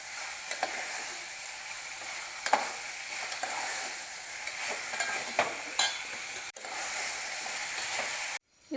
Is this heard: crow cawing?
no